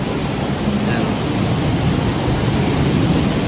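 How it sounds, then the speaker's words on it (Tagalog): Heavy rain pours at an outdoor market in Singapore, a loud continuous roar of dense hiss that fills the whole moment without letup. "Ang lakas ng ulan, grabe."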